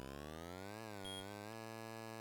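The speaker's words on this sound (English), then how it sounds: "There's the ambulance." An ambulance siren from a ColecoVision racing game, run on a MiSTer FPGA, plays as a faint, buzzy electronic wail that rises and falls in pitch, with sharp chiptune harmonics.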